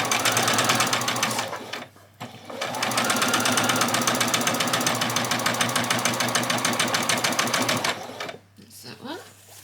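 Sewing machine stitching a back-stitched French seam on fabric ruffle pieces, a loud steady rapid needle rattle running almost continuously, with a brief pause near two seconds and stopping toward the end.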